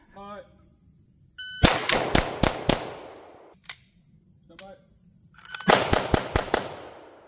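Pistol rapid fire at a shooting range during a basic pistol repetition class: two sharp, close bursts of about five quick shots each, with a single lone shot between them.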